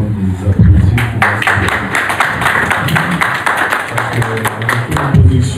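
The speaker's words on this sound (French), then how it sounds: "je leur demande des applaudissements" Fans clap at a music artist's press conference at an arena in Belgium, sharp hand claps rising and falling over a murmur of voices and cheering from the crowd.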